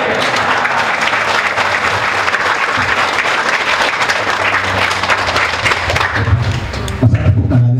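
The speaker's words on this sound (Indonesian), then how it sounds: "Masa tepuk tangannya segitu, tepuk tangannya." Audience applause at an online business training event for small enterprises, a dense, steady wash of clapping from a crowd that carries on loudly for several seconds before tapering near the end.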